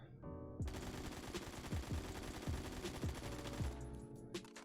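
Loud automatic gunfire from a weapon fitted with a muzzle brake in the Phantom Forces video game, one sustained rapid burst lasting about four seconds before stopping abruptly.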